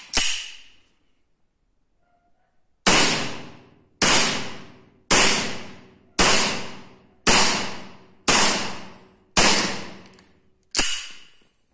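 Eight sharp shots from a CO2 air pistol firing 4.5 mm steel BBs at a target, loud and close: one crack, a pause, then seven evenly spaced reports about a second apart, each with a short ringing tail.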